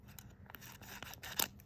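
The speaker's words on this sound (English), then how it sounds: "I like to use my scissors" Scissors snipping through Color Street nail polish strips for a Halloween mixed manicure: a few close, crisp cuts with a sharper snip near the end, and no talking.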